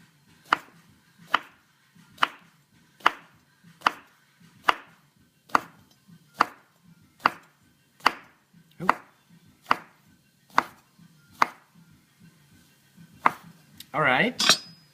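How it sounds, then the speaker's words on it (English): Knife cutting tempeh into thin slices on a cutting board, a steady series of about fifteen crisp, evenly spaced chops, close and distinct, with a brief louder rustle at the end. "But for now I start cutting this in slices of about 2 millimeters"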